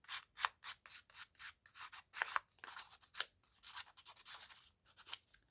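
Scissors snip through paper for a collage, trimming off a corner to distress it: a quick run of crisp, close cuts in an uneven rhythm, with no voices.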